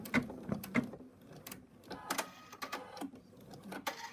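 Embroidery machine stitching an in-the-hoop bunny, a quiet, rapid mechanical chatter of needle strokes with small clicks and whirs, close by.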